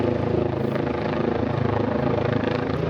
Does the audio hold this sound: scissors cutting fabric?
no